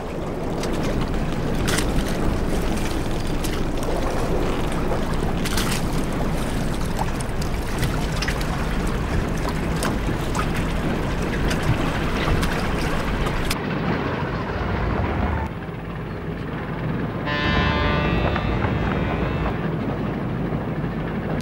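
Boats and tugboats moving through Hamburg harbour on the Elbe in 1938 make a steady, loud rumble of engines and churning water that shifts in tone partway through, with no voices.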